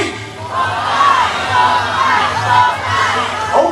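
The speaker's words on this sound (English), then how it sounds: "I would like to hear you shout Popeye, Popeye, Popeye as loud as you can." An audience at a bird show at KL Bird Park in Kuala Lumpur chants a bird's name loudly in rhythmic, repeated crowd shouts, with children's voices prominent.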